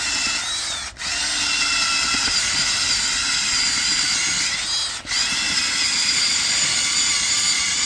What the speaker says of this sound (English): So what I'm doing is I'm just drilling into the ground.